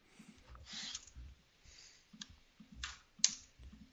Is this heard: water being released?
no